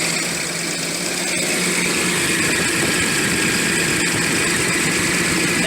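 A Datsun 280ZX engine bay with the cooling fan running, a steady loud whir over the low idling engine, continuous and close with no talk.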